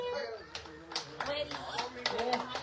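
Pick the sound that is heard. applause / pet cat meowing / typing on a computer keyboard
applause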